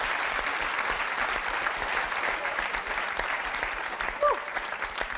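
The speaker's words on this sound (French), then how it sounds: "un fort applaudissement pour Josette" A television game-show studio audience gives a sustained round of applause for Josette, a performer juggling on a unicycle. The clapping is dense and even, with a brief whistle-like squeak near the end.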